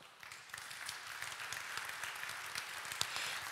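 An audience applauds steadily, a dense wash of many hands clapping throughout.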